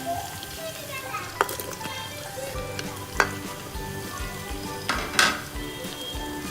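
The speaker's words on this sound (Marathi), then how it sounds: "अद्रक लसूणची पेस्ट टाकणार आहोत आणि दोन चिरलेले कांदे टाकणार आहे" Ginger-garlic paste and chopped onions sizzle and fry steadily in a pan for an Agri-style dal dish, with a few sharp utensil clinks and stirring scrapes over the constant hiss.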